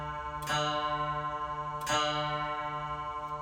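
A guitar note run through a Donner Harmonic Square pitch shifter set to a seventh interval rings out twice as plucked chords, each sustaining with a slight wavering shimmer, close and moderately quiet.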